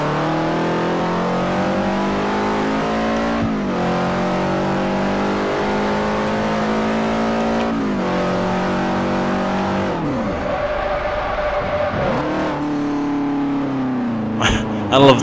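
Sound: Subaru race car engine in video game Forza Motosport 4

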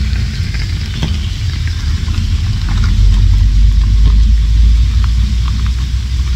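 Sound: car approaching and passing

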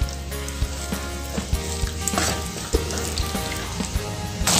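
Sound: stirring sizzling masala in pan

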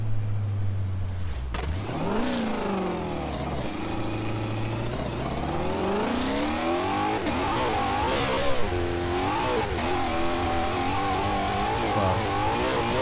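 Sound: car engine revving in video game Forza Horizon

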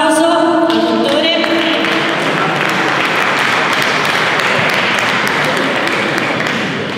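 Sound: applause for a doctor in a hall

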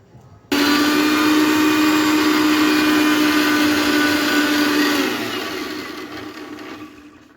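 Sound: blender blending coconut with water and green chili

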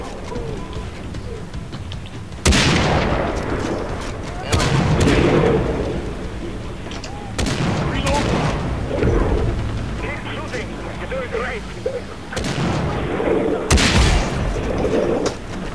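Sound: RPG fire and gunfire in video game Far Cry 3

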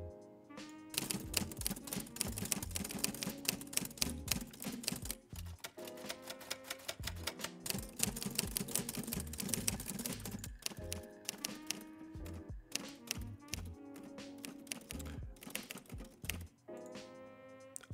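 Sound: typewriter typing sound effects from Epidemic Sound

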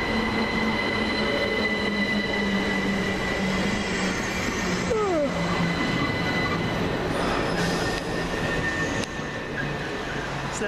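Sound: Southern Railway class 377 electric train, Sutton to London Victoria

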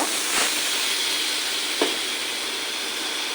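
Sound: jackfruit, potato, onion, garlic frying in pan

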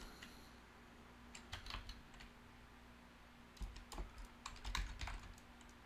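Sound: typing on a computer keyboard

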